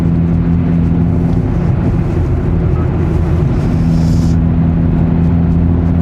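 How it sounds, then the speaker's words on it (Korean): A Hyundai Avante N with manual transmission, after a high-pressure fuel pump recall, drones steadily while driving, its exhaust and engine forming a continuous low, harmonic hum heard from inside the cabin, with no talking. "배기 사운드는 솔직히 차이를 잘 모르겠어요."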